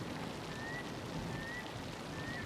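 Rain falling steadily in the African wilderness, a soft, even hiss of drops with no other clear sounds, quiet and continuous.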